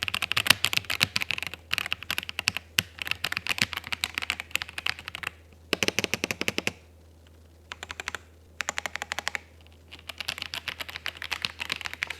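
Fast typing on a computer keyboard, heard up close as dense bursts of crisp clicks and clacks that stop briefly and then resume, over a low steady hum, with no talking.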